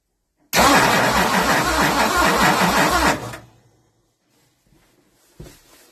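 A 1960 Ford Sunliner engine with sticking valves cranks for about three seconds in a loud, rhythmic whirring churn, then cuts off, followed by near silence and a brief faint knock.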